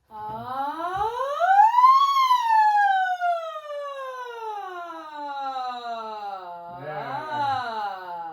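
A voice imitates a siren on an open vowel, sliding up high, then gliding slowly down low, then rising again near the end.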